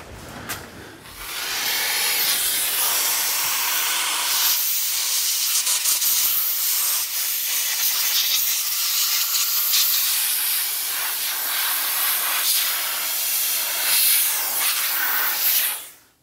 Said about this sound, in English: And we'll go to steaming.